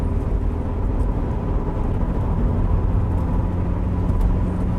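A Rover 25 Commerce van cruising at about 50 mph, recorded from inside the cab: a steady low engine drone and road rumble, constant and fairly loud, with no speech.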